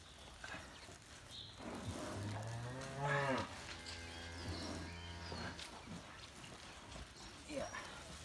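A dairy cow in labour on a New Zealand dairy farm lets out a long, loud strained moo while calving, with people talking quietly nearby and faint farm background.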